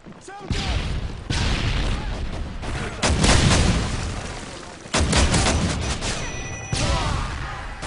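Video game Predator missile strike amid gunfire, a series of loud booming impacts and crashing blasts, each bursting in abruptly and then decaying, heavy and close, with brief gaps between them.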